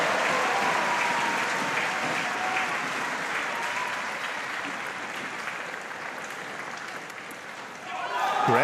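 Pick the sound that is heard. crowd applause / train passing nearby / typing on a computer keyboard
crowd applause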